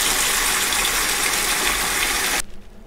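Steady gushing of warm water pouring into a bucket, loud and close, for about two and a half seconds before cutting off abruptly into near quiet.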